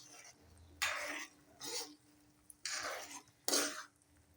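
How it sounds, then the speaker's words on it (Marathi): Oil with fenugreek seeds is stirred in a pan over low heat, giving four separate scraping, rustling strokes spaced about a second apart, close and fairly quiet. "आता आपण एकसारखं असं हलवून घेऊ."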